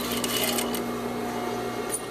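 A sewing machine stitches a sheer fabric panel, running as a steady continuous whir that stays close and fairly even, with small clicks near the start and a brief brighter tick toward the end, no voices over it.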